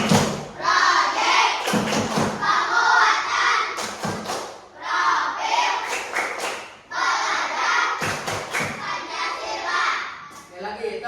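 A classroom of children standing and performing the 'tepuk P5' clapping chant, with rhythmic groups of sharp claps and thumps alternating with loud shouted chanting voices, close and energetic throughout.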